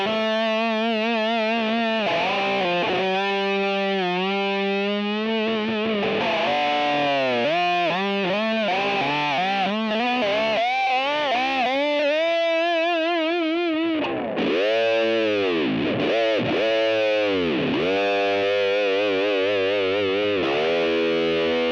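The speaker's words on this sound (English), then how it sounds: "roll the treble off on the tone control," A Reverend Reeves Gabrels signature electric guitar plays through distortion with its treble rolled off on the tone control, giving a nasal, cocked-wah honk across sustained notes and bends, loud, steady and close with no voices.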